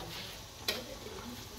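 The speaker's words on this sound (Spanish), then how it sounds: "Estoy friendo las de cebolla para la salsa" A faint, steady sizzle of onions frying in oil, with a single soft click partway through.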